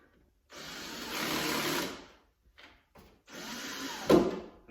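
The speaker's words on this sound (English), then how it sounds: "Self-tapping screws, so they're going to go right in to the fiberglass really well." Power driver sinking self-tapping screws into a fiberglass car hood, giving two buzzing bursts of a second or more each, split by short quiet gaps with faint clicks, followed by a sharp snap as a screw seats.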